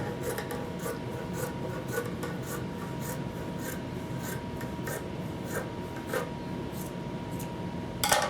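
Scissors cut through a cotton T-shirt into fabric strips, giving a faint, repeated rhythmic snipping and rasping, close and quiet, with no talk.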